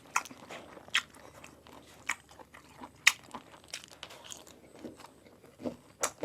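Crunchy food bitten and chewed up close, a string of sharp, dry crunches at irregular intervals over quieter chewing, with no talk.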